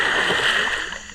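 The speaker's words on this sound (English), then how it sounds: "loud splashes in the water as fish, snakes, and caiman play their endless game of hunter" Splashes in jungle floodwater where fish, snakes and caiman hunt one another, heard as a continuous dense wash of sloshing and splattering water, fairly loud and close, easing slightly at the end.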